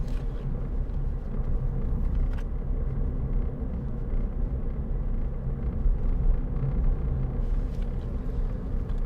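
Cabin of a 2010 Ford Fiesta 1.4 Titanium five-door on the road: a steady, fairly loud low engine and tyre drone with road rumble and faint wind noise, continuous throughout with no talking.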